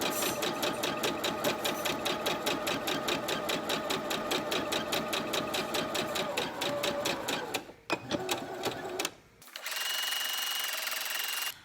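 A sewing machine stitches a duck-bill fabric face mask, its rapid needle chatter running steadily and loud for several seconds, then faltering into a few short bursts before a brief lull and a final sustained whir.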